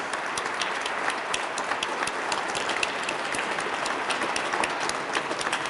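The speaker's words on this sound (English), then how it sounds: "Let's give her a warm round of applause." Steady audience applause at a Gifted Education Month event in Kentucky, many hands clapping continuously in a dense, even wash, moderately distant and sustained throughout with no talk over it.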